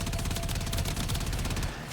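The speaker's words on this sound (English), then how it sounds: "I also like the setup on this minigun of sorts on the Arcwing." Arcwing minigun in Warframe firing a continuous, loud, dense stream of rapid shots for about two seconds, cutting off at the very end.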